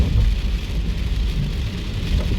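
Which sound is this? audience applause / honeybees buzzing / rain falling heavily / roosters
rain falling heavily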